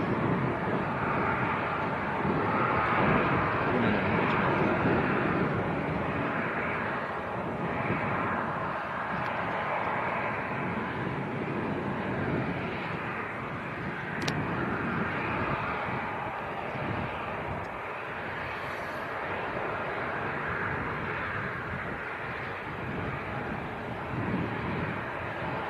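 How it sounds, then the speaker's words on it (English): A SunExpress airliner from Antalya on short final approach makes a steady, fairly faint roar of jet engines, heard from a distance with wind noise and no pause. "We do have an aircraft on finals, and it's a good one as well. Sun Express from Antalya on short finals."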